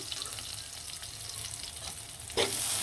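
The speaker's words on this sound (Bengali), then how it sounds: "বসানোর পর কুচি কুচি করা পেঁয়াজগুলো এখন দিয়ে দিলাম" Chopped onions frying in hot oil in a home kitchen pan, a steady soft sizzle throughout with a brief louder burst near the end as something is stirred or added.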